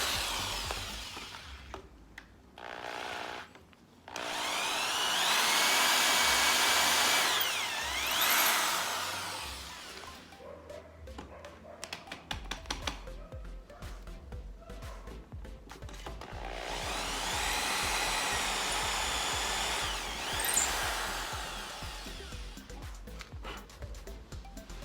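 A power drill bores a hole in wood for an outdoor wooden bench, with two long whirring bursts of the motor that rise and fall, separated by handling clatter and short taps.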